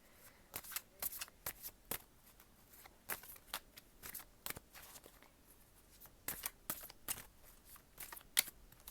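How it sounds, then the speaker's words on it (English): Tarot cards being shuffled and pulled from the deck, soft close riffling with irregular bursts of quick snaps and flicks, fairly quiet and without talking. "I'm going to go ahead and I'm going to pull some cards from Tarot."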